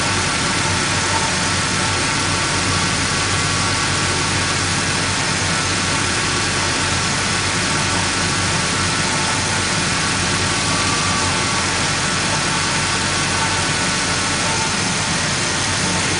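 A car engine with a Unichip piggyback controller runs steadily at idle after a 10-degree timing advance, a loud, continuous near drone with no talk over it.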